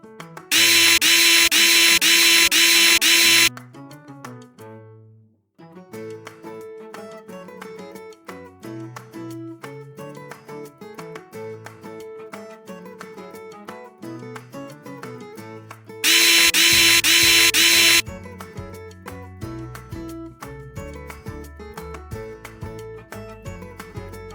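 A power screwdriver backs out the six outer casing screws of a NovaStar TB30 control unit, close and loud, with two long high whirring bursts and a busy run of clicks and rattles between them, and no talking.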